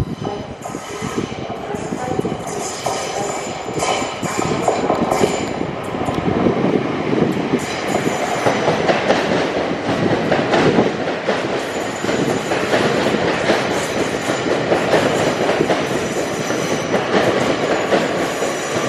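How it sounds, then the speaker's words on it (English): LNER train to King's Cross at York station, rolling through with loud, continuous rumble, rhythmic wheel clatter and occasional squeals, close by and building in strength. "LNER to King's Cross."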